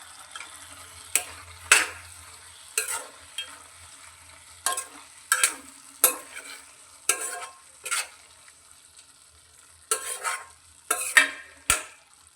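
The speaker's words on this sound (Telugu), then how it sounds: "ఇప్పుడు వీటిని బాగా కలపాలి" A spoon stirs and scrapes tomato curry with salt and coriander in a pan, giving about a dozen sharp, evenly spaced strokes over a faint sizzle, close and alone without talk.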